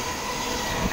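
A Sydney Trains suburban train rushes through Lewisham station in a loud, steady roar of rail noise, continuous for the whole second, with no talking.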